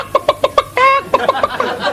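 A voice imitates a chicken clucking, with a quick run of short, loud, close clucks, a brief drawn-out squawk, then more clucking.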